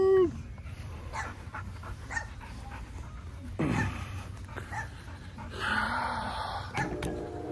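A dog whimpers and pants close by, with soft whines and breathy sounds spread across several seconds against a quiet outdoor background.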